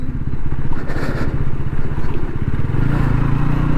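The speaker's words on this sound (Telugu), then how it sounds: "హిమాలయ బైక్ వేసుకొని సాడ్లింగ్ చేసుకుంటూ పోతున్నాడు" Royal Enfield Himalayan motorcycle riding along a rough off-road track toward Kailasagiri Betta, its engine thumping loudly and continuously up close with clattering over uneven ground.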